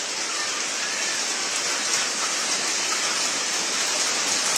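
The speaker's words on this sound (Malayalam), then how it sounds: "ഭയങ്കര ശക്തിയിലാണ് മഴ പെയ്യുന്നത്." Heavy rain pours hard at night in a dense, unbroken roar of falling water that stays loud and even throughout.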